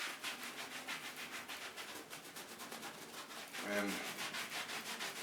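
Leather conditioner is rubbed over a hanging leather motorcycle racing suit, a faint, continuous, even rubbing and wiping close by, with no pauses.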